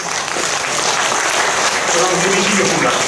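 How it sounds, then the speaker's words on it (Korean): Congregation applause in a Korean church worship service held in a large auditorium, a steady dense wash of clapping filling the whole stretch with voices mixed in. "큰 박수로"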